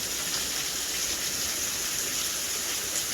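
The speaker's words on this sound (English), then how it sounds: "There's a waterfall here." Waterfall on the grounds of Nanzen-ji temple in Japan, a steady broadband rush of falling water, close and continuous with no break.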